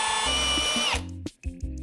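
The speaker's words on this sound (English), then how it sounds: "we'll take a spot weld drill bit, and we're going to cut those out with that" A power drill with a spot weld bit, cutting out spot welds on car body panels, whines steadily at high pitch for about a second, then cuts off into short bursts of lower grinding and clunks.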